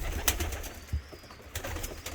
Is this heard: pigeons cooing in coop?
yes